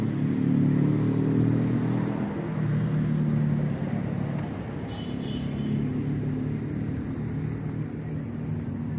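A steady, close engine rumble from an ALS 270 vehicle idles and runs continuously at a fairly loud level, with no voices over it.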